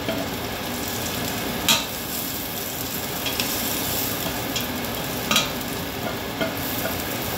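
Garlic frying in a pan for arroz caldo, a steady close sizzle with a few brief clinks of a utensil stirring, no voices.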